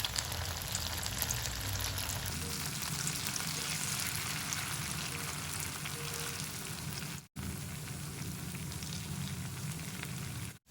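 Mixed cauliflower pieces fry in hot oil for a side dish, giving a steady, loud, dense sizzle that runs continuously with a couple of brief dropouts near the end; no one talks.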